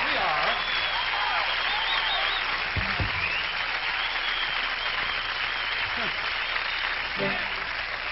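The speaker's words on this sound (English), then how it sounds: "Y'all can clap." Concert audience applause after a song, dense continuous clapping and crowd noise throughout, with faint voices calling out beneath it.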